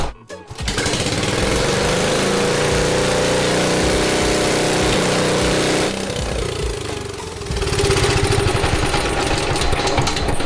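A drift kart engine runs loud and close, a harsh, buzzing small-engine drone that holds steady, dips briefly partway through, then rises again at the end.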